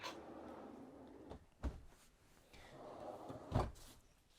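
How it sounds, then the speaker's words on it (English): Storage drawer pulled open under the dinette seat of a 2026 Newmar Grand Star motorhome, a soft sliding rumble followed by two sharp knocks as it stops, quiet and close in a still interior. "you can put your hand in here and just pull out the drawer for storage there"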